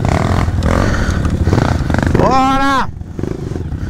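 A trail motorcycle with a bad clutch runs close by, its engine droning and then rising in a short rev before cutting back, while a rider shouts over it.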